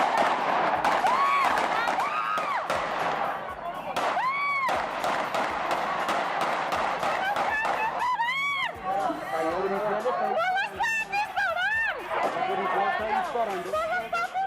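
Gunshots crack out in a street as a rapid scatter of sharp, loud bangs, some in quick bursts, over a continuous crowd hubbub with shouting and excited voices throughout.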